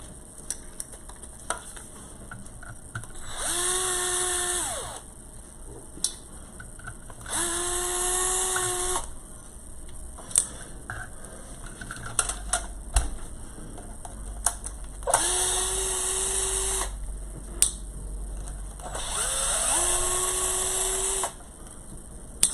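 A power nut driver whirs in several separate bursts while the shocks come off a Team Associated B7 turf RC car, each burst a high steady whine lasting a second or two, close up and without talk.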